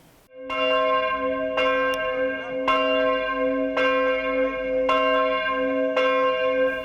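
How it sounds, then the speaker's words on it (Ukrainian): Church bells ring out to call parishioners to a festive liturgy in a Ukrainian village, struck in clear, evenly spaced resonant peals about once a second, each note ringing on with a sustained hum beneath, with no voices. "На святкову літургію дзвони урочисто закликали до церкви парафіян та гостей села Дмитрів."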